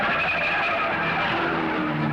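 Race car spinning down the main straightaway at the 1970 Indianapolis 500, a brief loud tire skid and engine noise held through about two seconds, no talk.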